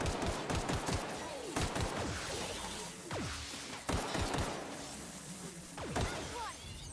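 Rapid bursts of video game gunfire from The Outer Worlds, sharp repeated shots clustered early, then scattered volleys and impacts, loud and close, with no talking.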